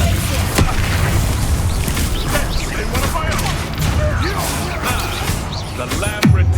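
Spell-blast explosions from the Hogwarts Legacy video game on PC: a dense, loud run of booming, crackling bursts and whooshes. The barrage continues almost without pause under game voices, with a sharp final hit near the end.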